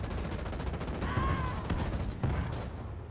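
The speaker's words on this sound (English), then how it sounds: "Warthog is under artillery assault" Artillery fire bursts around a Warthog in the strategy game Halo Wars 2, a few heavy thuds punching through a continuous roar of battle noise at moderate distance.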